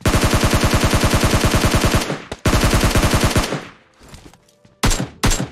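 Gunfire in PUBG Lite, including an S686 double-barrel shotgun: a loud, fast, evenly spaced automatic burst for two seconds, then another sustained burst, followed by a couple of heavy separate shots with ringing tails.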